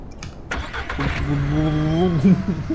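A car engine in the video game Ranch Simulator cranks and catches, then settles into a steady mid-pitched running hum, loud and close, with a brief clatter before it starts.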